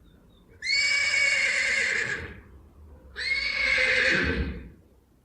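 A horse neighs twice in a row, each whinny loud and close with a long bright quavering tone, followed near the end by a low snort, with no one speaking.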